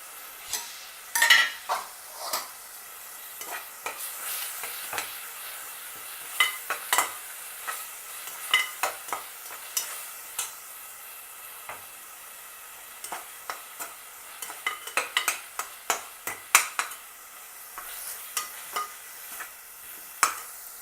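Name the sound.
sautéing ginger garlic in a pan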